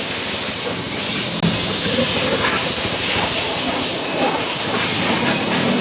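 A car wash wand sprays water onto a car in a steady, loud hiss that runs without a break from start to finish, close by and unaccompanied by speech.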